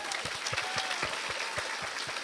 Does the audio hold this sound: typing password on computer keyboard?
no